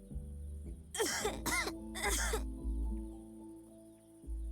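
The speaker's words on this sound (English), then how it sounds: "you really should get that cough looked at" A few harsh, raspy coughs in quick bursts, close up, over a low steady background hum, from the video game 3 Minutes to Midnight.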